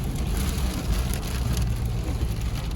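Rain falls steadily on a vehicle while driving out toward a bush camp near Bridgetown, Western Australia, a dense, even patter with low road rumble underneath, continuous and fairly close throughout.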